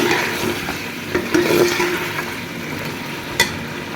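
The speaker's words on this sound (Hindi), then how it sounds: "अब हमने अच्छे से भुनाई कर लेनी है।" Mutton pieces roasting in a pan with lemon juice, vinegar and spices, giving a steady sizzle with scraping stir strokes and a sharp clink near the end, close and fairly loud with no talk.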